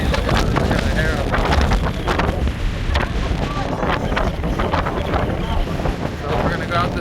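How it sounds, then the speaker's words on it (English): Strong wind buffets the microphone in a harbour setting by the water, a loud, continuous roar with gusty surges throughout, while voices are faintly present underneath. "Tell you what, it's windy."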